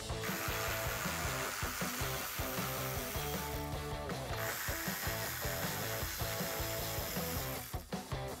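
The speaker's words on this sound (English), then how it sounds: "You'll just need your 10 millimeter socket on a ratchet to remove those." A hand ratchet turns a 10 mm socket, removing headlight mounting bolts on a 2009-2014 Ford F-150. The clicking is rapid and repeated in close, steady bursts, with a brief pause near the end and no talk.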